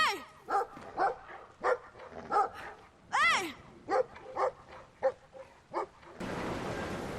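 A dog in the video game Brothers: A Tale of Two Sons barks in a rapid series of sharp, close barks with a few whining yips, then gives way to a rushing noise at the end.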